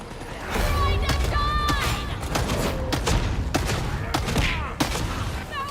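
Sniper and other gunfire in the Warhammer 40,000: Darktide video game, a dense run of sharp cracks and thuds over continuous game noise, with scattered creaks and mechanical sounds and voices talking in the background.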